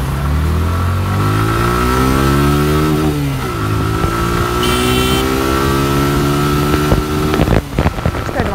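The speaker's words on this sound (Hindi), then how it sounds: "तो बैटरी लो हो जाए तो किक स्टार्टर से भी इंजन स्टार्ट हो सकता है।" Suzuki Gixxer motorcycle engine running loud and close, its pitch swooping up and down through several revs before settling into a steady idle, with a few sharp mechanical clicks near the end.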